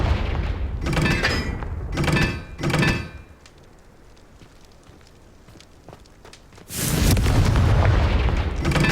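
A Confringo explosion spell in Hogwarts Legacy sets off a run of heavy booming thumps, a quiet lull, then a loud sustained blast near the end.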